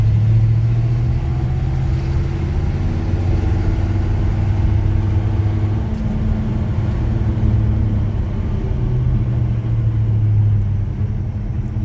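A Chevy C10 pickup truck held in second gear while driving, a loud, steady, close engine rumble with a low drone that runs without a break the whole time.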